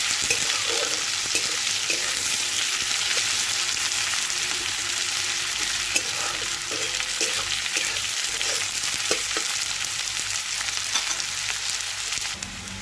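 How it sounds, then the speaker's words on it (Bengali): Chopped onion frying in a pan with bay leaf and five-spice seeds, a constant close sizzle with occasional scrapes of stirring, no voices. "পেঁয়াজ কুচনো দিয়ে দেবো। পেঁয়াজটাকে ভালো করে ভেজে নেব।"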